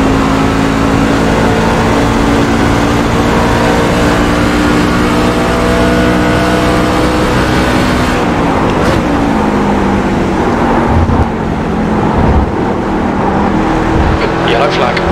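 A NASCAR C Class stock car in the iRacing sim at Watkins Glen, Chevrolet engine droning loud and steady, pitch climbing then shifting as it accelerates and changes gear, continuous throughout.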